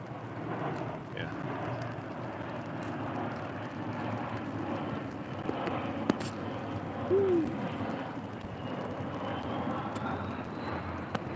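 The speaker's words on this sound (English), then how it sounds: "these planes going through here." Airplanes flying low over Old Town Alexandria, Virginia, leave a faint, steady distant drone beneath a broad outdoor hum, with no clear peak of a close pass.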